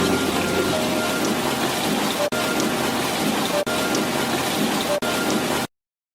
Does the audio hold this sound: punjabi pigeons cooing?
no